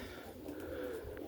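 Roller pigeons cooing close by, a short, soft, low coo over a steady background hum.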